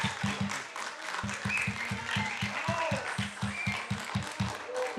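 Crowd at a city council meeting after a vote, bursting into sustained applause and clapping with scattered voices, fairly distant and rhythmic in places, continuing throughout.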